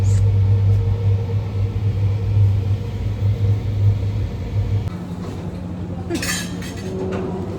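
Auto rickshaw ride, a steady loud engine rumble and road noise throughout, the drone shifting in pitch partway, with a brief clinking rattle near the end.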